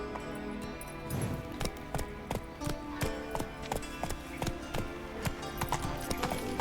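Roach, the horse in The Witcher 3, gallops in rapid rhythmic hoofbeats with a clattering, clip-clop texture, steady and fairly close, the pace picking up after the first second with faint game ambience behind.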